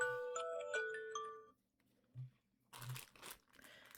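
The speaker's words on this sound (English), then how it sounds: "Oh, my phone is ringing." A phone ringtone plays a short melodic tune of bright stepped tones, then cuts off, followed by faint crinkling and rustling handling noises.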